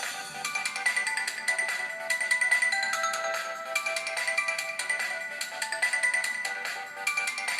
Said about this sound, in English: And the Movistar ringtone from the network of the phone.